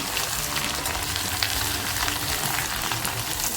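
Homemade onion-garlic masala sizzles as it is sautéed in oil for a Kolhapuri mutton rassa, a loud, steady, unbroken frying hiss with no talk over it.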